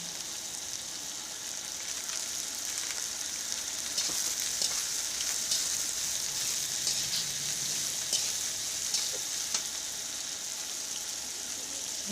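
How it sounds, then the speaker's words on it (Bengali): Eggplant and potato sizzle steadily in hot oil with fried onion in a pan, a constant crackling hiss with occasional stirring scrapes. "পেঁয়াজটা ভালোভাবে ভাজা হয়ে গেলে ওর মধ্যে আমি বেগুন আর আলু দিয়ে দিচ্ছি"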